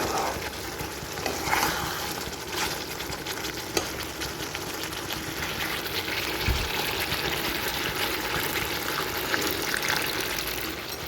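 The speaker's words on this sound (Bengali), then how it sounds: "এবার সামান্য একটু জল দেবো" Water splashed into a pan of simmering paneer curry sets off a soft, steady sizzle and bubbling, with a few light clinks of a utensil against the pan, close and even throughout.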